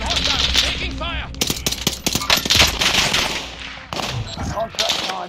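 Gunfire in a battle-royale style video game, with rapid bursts and single shots cracking loudly over dense, continuous combat noise, and a brief game voice heard in the mix.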